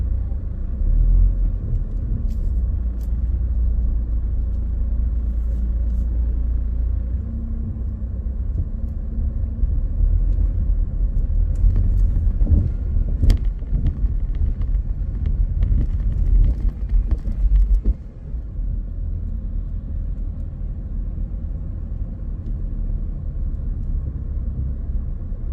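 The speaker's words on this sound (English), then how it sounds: "As you know, in every capital city, there is always traffic jam" Evening car traffic on the streets of George Town, Cayman Islands, heard from inside a moving car: a constant low road rumble with passing vehicles and scattered clicks, steady for the whole stretch and easing slightly near the end.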